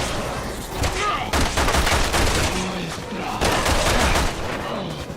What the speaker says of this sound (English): Keep trying to shoot Jake